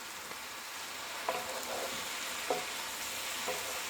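Garlic butter spareribs and cabbage sizzle steadily in a pan, a constant frying hiss broken by three soft scraping stirs spaced about a second apart.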